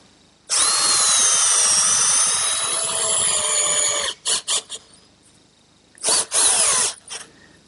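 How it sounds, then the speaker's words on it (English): A power drill driving screws into wood whines loudly for several seconds in one long run, then gives a few short bursts, followed by another brief surge and quick pulses. "then we'll drill and attach it with a couple screws"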